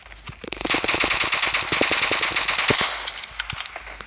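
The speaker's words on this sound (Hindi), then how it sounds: "तो बहुत तेज़ आपको फायरिंग सुनने को मिलेगा" Rapid tap firing of an MK47 rifle in the BGMI video game, a fast run of sharp, loud shots packed into a near-continuous burst, then a few spaced single shots trailing off at the end.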